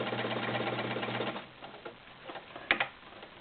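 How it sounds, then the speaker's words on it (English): A vintage Kenmore 1301 heavy duty sewing machine sews a zigzag stitch, its bobbin working back and forth in a busy rhythmic whir that stops after about a second, followed by faint clicks and a sharp knock. "The noise you hear is the bobbin working back and forth."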